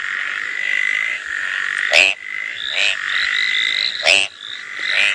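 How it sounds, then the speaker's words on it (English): Mascarene grass frog (Ptychadena mascareniensis) calling alone: a steady buzzing trill with sharp, loud clicking croaks bursting in roughly every two seconds, close and clear. "And this is the call. Are you ready? Mascarene grass frog"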